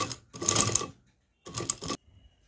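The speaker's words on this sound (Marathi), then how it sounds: "हे बघा तर आता ही शिलाई मी अशी हे बघा इथून अशी इथपर्यंत घेणार।" Sewing machine stitching a seam on a large blanket organiser, two short bursts of rapid mechanical stitching separated by a pause, close and clear with no talk.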